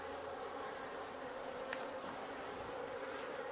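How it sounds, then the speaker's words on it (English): Steady, soft buzzing of many honey bees close by at an open hive in Newfoundland, a continuous drone with no voices. "what is it with all these bees hanging out on the bottom, on the inner cover like this?"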